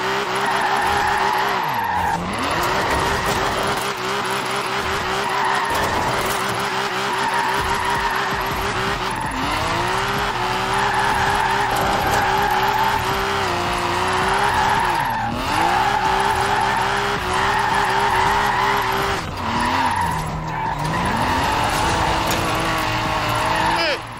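A car in the Forza Horizon 4 racing game drifts through corners, engine roaring steadily while tires squeal and skid in repeated bursts, the engine pitch dipping and climbing with each slide.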